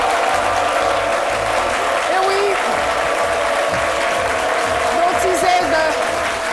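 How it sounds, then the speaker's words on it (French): Applause from a TV studio audience on a French midday show, a steady broad wash of clapping with an announcer talking over it. "que je vous demande d'applaudir."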